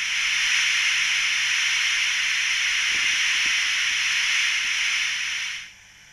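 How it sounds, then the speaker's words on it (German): A model steam locomotive, the ESU BR 94, releases a steady, loud hiss as its cylinders are drained, with faint mechanical clicks beneath, before the hiss cuts off abruptly near the end. "Ein sehr ebenfalls typisches Geräusch für eine Dampflokomotive, das Entwässern der Zylinder."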